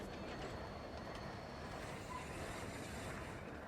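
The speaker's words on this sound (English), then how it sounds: "Just then, Gregory rolled in with his train" A freight train of three shabby boxcars rolls in on worn, run-down track, a steady low rumble and rattle of wheels heard faintly and continuously without pause.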